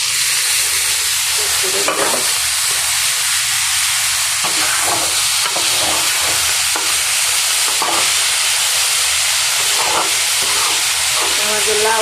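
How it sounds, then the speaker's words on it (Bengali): Onions, garlic and green chilies sizzling in a pan during late-night home cooking, a loud steady hiss broken by repeated scraping stirs of a spatula at irregular intervals. "পেঁয়াজ ভাজা হয়ে গেছে"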